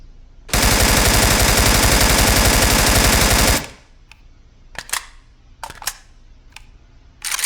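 An AK rifle fires in a video game, shot from a standing, unsupported position. A loud, sustained automatic burst lasts about three seconds, followed by sparse clicks and brief sharp noises.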